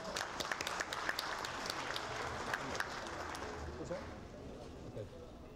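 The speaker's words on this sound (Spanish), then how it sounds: "un aplauso para William Lombard" Applause from a conference audience at a security and risk management seminar, a patter of scattered clapping that fades to quiet murmur, fairly faint and distant.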